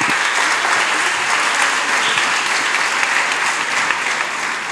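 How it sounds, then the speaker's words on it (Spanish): Sustained applause from an audience at a magazine presentation event, steady dense clapping filling the whole stretch with no voices over it. "Un fuerte aplauso."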